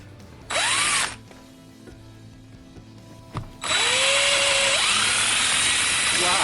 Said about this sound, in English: let's see how it's gonna bite and drill now